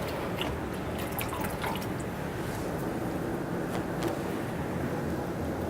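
Water rinsing off a face during a facial cleanse, a steady close splashing and trickling wash with scattered drips, continuous throughout with no talk.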